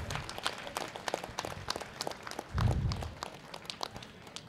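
Villagers at an outdoor felicitation ceremony applaud, a dense patter of many hands clapping that continues throughout, with a brief low rumble partway.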